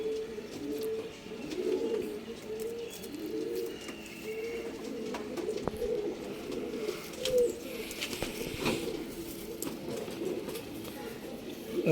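Old line pigeons coo in repeated low, throaty phrases close by, a continuous murmuring series with faint background chatter and occasional clicks.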